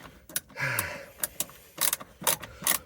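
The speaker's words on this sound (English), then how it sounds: "Now I'm going to unscrew this" Screws are worked loose on a narrowboat's Jabsco water pump fitting, giving close, quiet ratcheting clicks and scraping metal turns in short irregular bursts, alone without talk.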